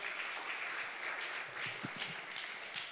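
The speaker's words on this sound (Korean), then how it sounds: "큰 박수 부탁드리겠습니다." An audience applauds a speaker stepping up at a food-industry conference session; soft, distant clapping, fairly quiet and steady for about three seconds.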